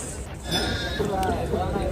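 A goat bleats at the cattle fair of the Anthiyur Gurunathaswamy temple, a drawn-out wavering cry close by, heard over someone talking and the general bustle of the market.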